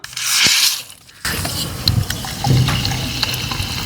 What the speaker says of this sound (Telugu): సోడా అయితే పోసేద్దాం